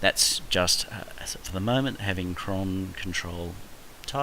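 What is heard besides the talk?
No everyday noises stand out.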